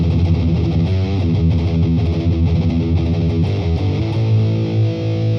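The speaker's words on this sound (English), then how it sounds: "This is distortion sound that is ideal for performance of heavy riffs." Heavy-riff guitar distortion from a Boss Katana MkII amp, a thick sustained chord tone played loud and steady without pause.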